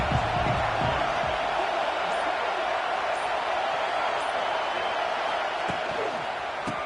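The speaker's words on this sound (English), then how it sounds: "This crowd ready to make its presence known." A packed American football stadium crowd roars with a steady, dense wall of cheering that stays loud and broad throughout, with a few sharper shouts poking out from the far-off mass.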